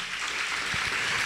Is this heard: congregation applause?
yes